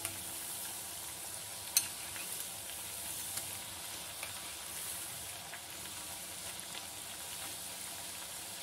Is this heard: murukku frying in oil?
yes